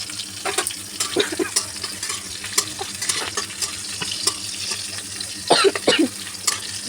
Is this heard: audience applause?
no